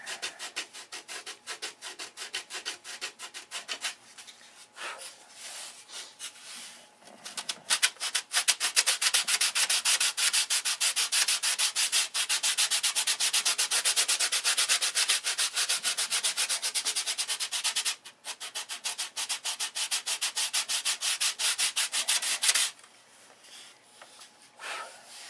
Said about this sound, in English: those that don't want to see sanding don't have to watch it